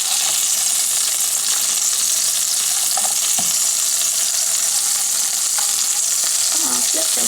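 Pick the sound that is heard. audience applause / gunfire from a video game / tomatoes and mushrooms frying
tomatoes and mushrooms frying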